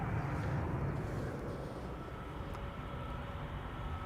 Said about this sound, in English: So, 14-year-old CRJ off to Munich